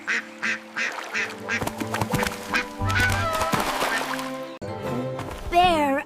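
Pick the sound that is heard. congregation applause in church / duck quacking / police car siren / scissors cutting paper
duck quacking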